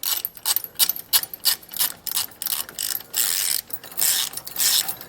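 A ratchet wrench tightens steering stabilizer bolts on a 2019 Fleetwood motorhome, giving quick bursts of close metallic clicking separated by short pauses, with no talking.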